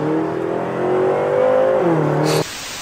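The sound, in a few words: BMW car engine revving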